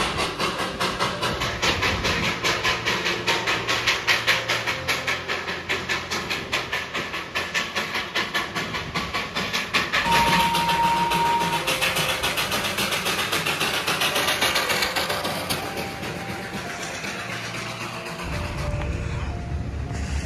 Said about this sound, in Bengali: আসছে স্টিম ইঞ্জিন সহ যে দার্জিলিংয়ের ঐতিহ্যবাহী রেল